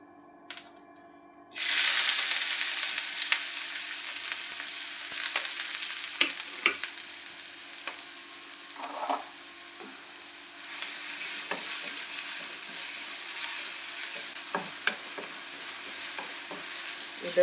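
Chopped onions hit hot oil in a pan and sizzle continuously, with occasional scrapes and taps of a stirring spoon against the pan over the steady frying hiss.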